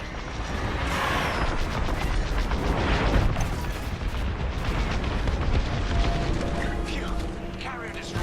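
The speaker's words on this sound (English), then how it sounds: "Take that carrier down." A capital ship carrier is destroyed in Star Wars Squadrons, with heavy rumbling explosions and continuous booming battle noise throughout, while radio voices talk over the din.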